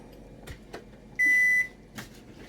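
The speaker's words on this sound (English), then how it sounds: "Microwave!" A household microwave oven hums quietly with a few soft clicks, then gives a single loud, steady beep of about half a second, followed by a brief rustle.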